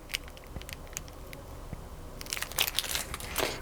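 A plastic bag crinkles and rustles as a City girl Bing doll by Mr. Z is pulled out, with irregular close crackles and taps growing busier toward the end.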